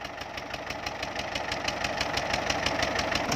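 Walking tractor engine revving while reversing, a close, loud diesel chug with a fast regular knocking pulse that builds slightly in strength toward the end.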